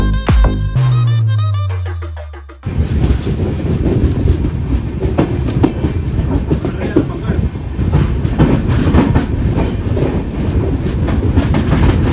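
A Konkan Railway passenger train rolls along the rails with a loud, steady rumble and rhythmic clacking of wheels, close by, after a brief tone at the start.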